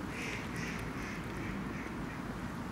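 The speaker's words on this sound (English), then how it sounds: "It's just the ducks around here. They're lovely." Ducks quack repeatedly in a steady, busy chorus nearby, with no voices over them.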